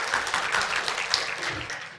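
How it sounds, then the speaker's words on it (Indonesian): Audience applause at a church gathering, a dense, continuous wash of clapping from many hands filling the whole short stretch, fairly loud and even throughout. "Boleh kita beri tepuk tangan ya."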